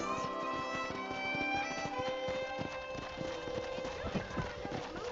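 Horse hooves clip-clop at a steady walking pace past a corral in Red Dead Redemption, over a continuous musical backdrop, with a voice talking over the rhythmic steps.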